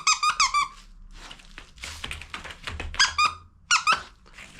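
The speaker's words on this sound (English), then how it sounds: "And it squeaks, doesn't it?" Squeaky plush teddy toy for an English Springer Spaniel, squeezed in loud bursts of repeated high squeaks at the start, middle and end, with softer rustling and handling noises between.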